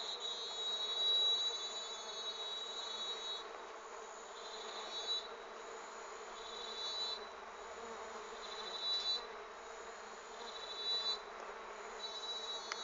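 Swarm of Melipona scutellaris (Uruçu) stingless bees buzzing steadily while feeding on syrup, a dense, continuous drone of many wings close by, rising and falling slightly, with no voices.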